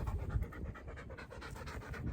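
A dog panting heavily after a trail race outing, a steady rapid rhythm of breathy puffs, close and continuous without pause.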